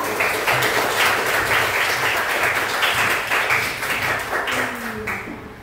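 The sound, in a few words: applause, clapping in a classroom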